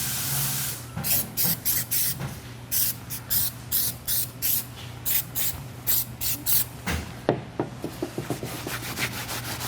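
Terminator cleaner sprayed onto the wheel of a Midnight Purple III R34 Nissan Skyline GT-R V-spec, a rapid series of short, sharp hissing trigger-spray bursts, close and loud, repeated about twenty times.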